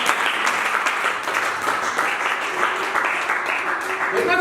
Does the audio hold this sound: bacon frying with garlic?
no